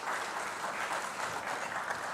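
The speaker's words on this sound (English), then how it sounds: "Please give him a round of applause." Audience applause at a men's parliament gathering on gender-based violence, steady dense clapping throughout the short stretch with no break.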